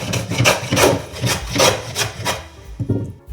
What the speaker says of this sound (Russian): Вначале проверю работу шерхебеля.